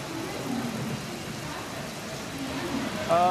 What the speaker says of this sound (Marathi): पहाटेपासूनच पावसाची जोरदार बॅटिंग आहे